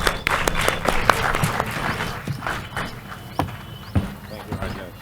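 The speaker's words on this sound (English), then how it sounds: "Ladies and gentlemen, give them a big hand of applause." An audience claps for two guests welcomed onto a stage at a literary talk, with irregular claps and stomping-like thumps close by, mixed with voices and shuffling throughout.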